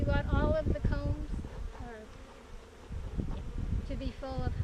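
Honey bees hum at an open beehive colony during a group beekeeping lesson, a low, continuous buzz running beneath people talking close by.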